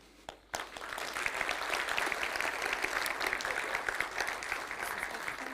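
Applause for Borislav Stanimirov after his talk at the code::dive 2022 programming conference: a brief quiet moment, then a crowd bursts into steady, fairly distant clapping that continues evenly to the end.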